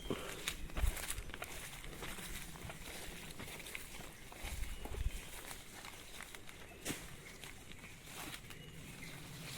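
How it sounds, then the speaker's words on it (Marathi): Footsteps moving through a rain-soaked Konkan forest, an uneven run of soft crunching and rustling steps on leaves and undergrowth, quiet and close, with no clear speech. "आता जंगलातनं पुढे पुढे चाललो आम्ही इकडे"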